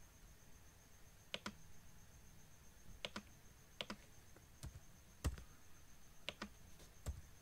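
Quiet keystrokes on a computer keyboard come in short bursts of two or three clicks separated by pauses, close and faint against a hushed room, with no speech.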